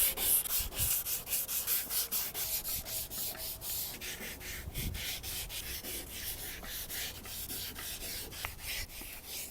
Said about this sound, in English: I'm going to start off by wet sanding the clear coat